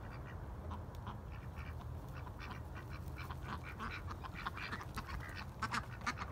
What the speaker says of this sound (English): Turkeys are making noise up there